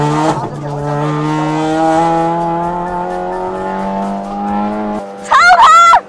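A race car on racing tires runs a practice lap. Its engine holds a steady, loud drone for about five seconds, and a burst of high, wavering tire squeal follows near the end.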